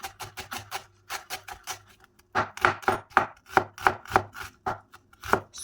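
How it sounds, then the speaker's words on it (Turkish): A knife finely chops onions on a cutting board, a rapid run of crisp taps, a short pause, then another steady burst, close and clear. "soğanlarımı ince doğramaya gayret gösteriyorum"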